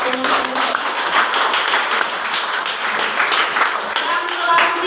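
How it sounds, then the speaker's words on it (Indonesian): A school audience claps for the student council during a junior high student council election debate, a steady patter of many hands with voices and chatter mixed throughout. "tepuk tangan dulu ya buat pengurus"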